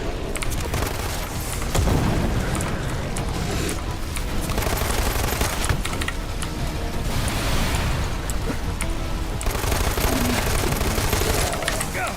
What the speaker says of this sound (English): This new machine pistol's pretty good.